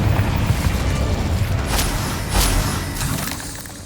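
An Incendio fire spell in the Hogwarts Legacy video game goes off as a booming blast with crackling bursts, loud and continuous across the short clip with no talk.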